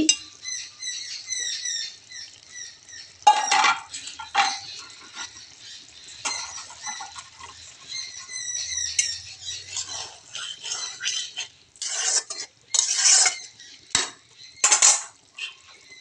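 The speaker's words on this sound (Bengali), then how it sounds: "এখন আমি যে মাছগুলো দিয়ে দিব। মাছগুলো দিয়ে দিচ্ছি।" Fish pieces being added to a pan of Bengali fish chorchori, with repeated light clinks and scrapes of utensils against the pan and a few sharper clatters near the end, close and moderately loud, no talking.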